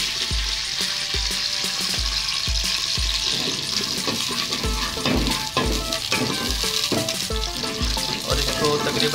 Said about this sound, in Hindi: देगची में घी डाल दिया है तो अब इसमें प्याज शामिल करेंगे बारीक कटे हुए।